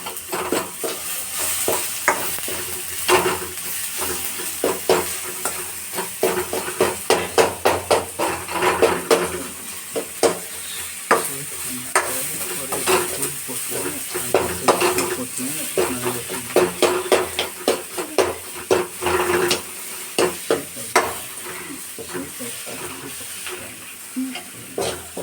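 Tomatoes sauté in a pan for vada curry under a constant loud sizzle, with rapid, repeated scraping and clinking stirs of a metal spoon throughout, growing more rhythmic toward the end.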